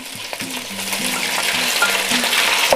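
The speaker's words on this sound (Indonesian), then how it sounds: "daging yang sudah dimarinasi saya goreng dulu ya" Marinated beef frying in a little oil in a pan for a stir-fried beef and bell pepper dish, a steady close sizzle with stirring and occasional utensil scrapes throughout.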